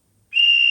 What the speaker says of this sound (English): Guard's whistle, that's quite nice.